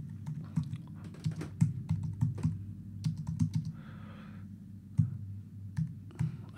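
Rapid, uneven clicking of computer keyboard keys, close and clear, with short bursts and pauses between keystrokes and no talking.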